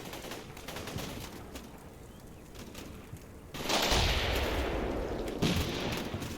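Gunfire crackles from an enemy-held building in the Combat Mission Black Sea war game, set in a park during a Ukraine campaign, with sporadic distant shots giving way to a louder, sustained rattle of fire.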